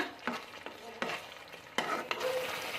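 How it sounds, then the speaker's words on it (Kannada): Kabuli chana masala gravy simmering in a pan, with a steady close sizzle and bubbling broken by several sharp scraping stirs across about three seconds. "ಇದು ಚೆನ್ನಾಗಿ ಕುದಿಲಿ ಒಂದು ಎರಡು ನಿಮಿಷ"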